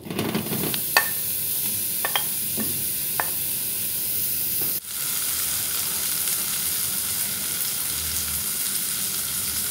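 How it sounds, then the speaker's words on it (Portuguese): Sausage frying in a little oil in a pan gives a dense, continuous sizzle up close, with a few clinks of a utensil early on and no talking. "para poder fritar a linguiça."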